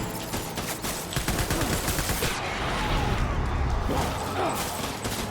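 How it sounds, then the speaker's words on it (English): Dense, continuous gunfire rakes the player in Death Stranding, with rapid overlapping shots and loud crackling bursts that stay at full intensity throughout. "Stop shooting me!"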